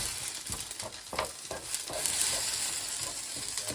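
Kaiserschmarrn being chopped into pieces in a frying pan, with a run of scraping, tapping spatula strokes against the pan over a steady sizzle, close and fairly loud, with no talking.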